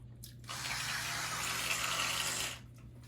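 An Oral-B Pro 5000 electric toothbrush hums steadily at close range for about two seconds, then stops briefly as its quadrant alert signals a change, with no talking.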